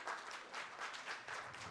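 An audience at a conference session claps together in a sustained round, a dense wash of many hands rising and falling slightly in waves, fairly quiet and distant.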